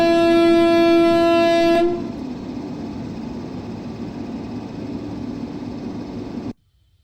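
A train in an Indian train simulator game, the 13006 Amritsar–Howrah Mail, sounds a loud, steady horn for about two seconds, then a quieter, constant rumble of running carriages continues until it cuts off abruptly.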